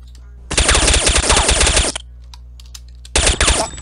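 Automatic gunfire in Counter-Strike: Condition Zero Deleted Scenes, a loud rapid burst of about a second and a half, a short pause, then a second burst, close and alone.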